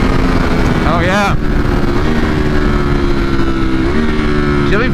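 A 2020 Ducati Streetfighter V4 with a flashed ECU accelerates hard, its engine note holding a loud, steady drone with climbing revs through quick gear changes. A rider talks over the wind and exhaust.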